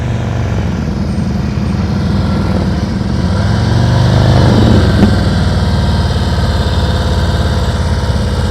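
Motorcycle engine held at a steady, constant throttle during slow-speed riding practice, a continuous mid-pitched drone with a slight swell midway, close and loud with no talking.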